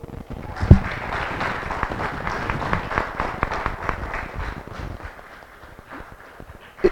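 An audience at a debate on a water resources bill claps together, a dense patter of hands that holds steady and then thins out toward the end, with a few louder knocks nearby.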